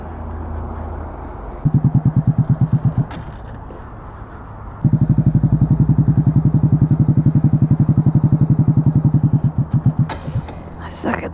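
A motorcycle engine during riding practice: a near, rhythmic chugging pulse that cuts out briefly, then resumes for several seconds before fading, with people talking over it.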